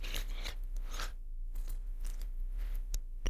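A knife crunches through an onion on a cutting board, with several crisp cracks and scraping strokes, close and fairly quiet, and no talk.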